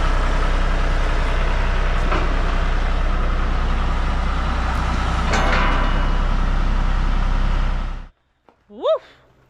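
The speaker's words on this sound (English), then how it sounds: "Your coach's voice was getting drowned out by the John Deere" A John Deere tractor engine on a farm labours loudly and steadily while pulling a heavy block, a continuous heavy rumble that cuts off abruptly near the end, followed by a brief voice.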